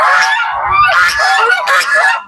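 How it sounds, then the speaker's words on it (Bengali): A flock of geese in a Bangladeshi park honks loudly and repeatedly at passing people, harsh overlapping calls packed close together with no pause across the whole moment. "রাজহাঁসগুলো চিৎকার করছে মানুষ দেখে।"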